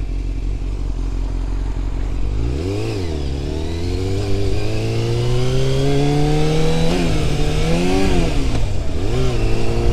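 A 1997 Yamaha YZF600R motorcycle engine idles steadily, then revs up sharply twice and climbs to a sustained higher pitch, loud and close, with no speech.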